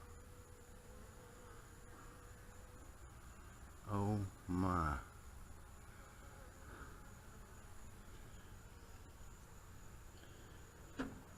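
A swarm of bees buzzing in a top bar hive, a faint continuous drone throughout with a person briefly speaking partway through.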